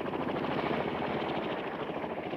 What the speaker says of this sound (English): was the Chinook helicopter